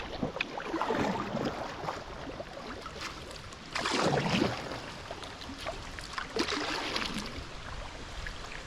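A canoe moves through a rushing river chute, with splashing paddle strokes and churning water surging in several bursts over steady flowing water and wind noise.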